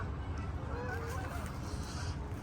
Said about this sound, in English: Canada geese are leaving.